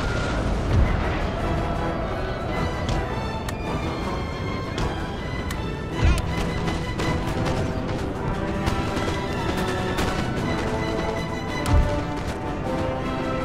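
Napoleon: Total War artillery fire booms out in a dense battle, with a few heavy thumps standing above a constant roar of distant cannon and musketry.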